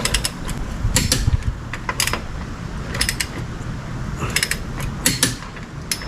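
Torque wrench tightening lug nuts on a 1996 Corvette's 17 x 11 inch wheels, a series of close, sharp ratcheting clicks and metallic creaks coming in uneven bursts, with no voices.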